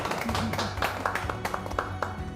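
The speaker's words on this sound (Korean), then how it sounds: "우리 서로를 위해서 박수 한번 치겠습니다." A small audience at a talk in Busan claps together, a short burst of moderately quiet, uneven hand claps that taper off.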